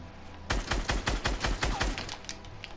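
Gunfire in an online shooter video game, a fast burst of about a dozen sharp shots in quick rhythm, fairly close and loud, alone with no talk.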